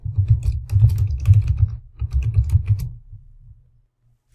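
Password being typed on a computer keyboard, close and crisp: two quick bursts of rapid key taps separated by a brief pause, then tapering to a few slower presses and a final click.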